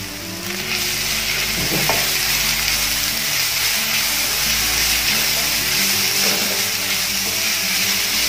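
Onions sautéing in a pan for egg puffs give a steady, loud, continuous sizzle and crackle, with a few faint scrapes of stirring and no voices.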